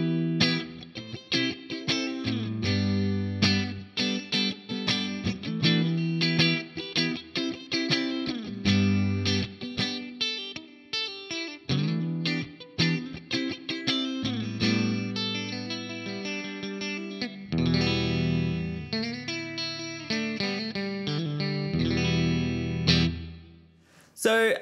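Electric guitar through a Choptones Suur Custom 100TP amp model on the gain channel, with reverb: driven chords and single-note phrases with pauses, sustained and fairly loud, ending in a decaying ring.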